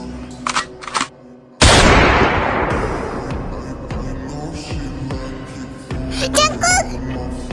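A single loud gunshot bursts out and rings into a long, decaying echo, with brief music-like tones before it and fainter sounds afterward.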